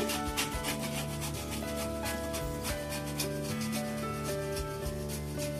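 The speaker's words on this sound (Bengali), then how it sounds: "যে জায়ফল রেখেছিলাম, সেটা একটু ঘষে দিয়ে দেবো" Whole nutmeg is grated for Hyderabadi chicken dum biryani, making a close, continuous scraping rub with a quick, even rhythm over tonal background music.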